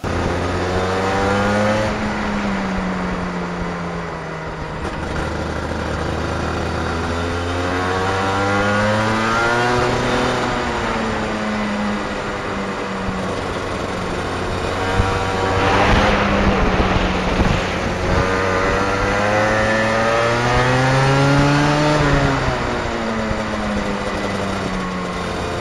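A 125cc two-stroke racing kart screams around a track, its high-pitched engine rising and falling steadily through repeated acceleration and deceleration, loud and close throughout.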